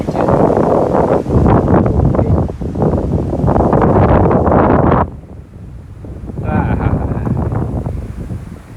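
Strong wind buffets the microphone while people sit up in a tree outdoors, a loud continuous rush that drops sharply after about five seconds and then rises again, with voices faintly talking underneath.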